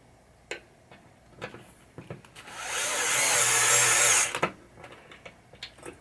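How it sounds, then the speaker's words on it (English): A power driver sinks screws into a 1980 Williams Firepower pinball machine, with one sustained whirring burst of nearly two seconds framed by light clicks and handling taps, close and fairly quiet. "I want to get 2 of these screws in."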